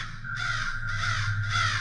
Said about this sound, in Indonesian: tiba-tiba 2 burung gagak berlumuran darah terbang di depan motor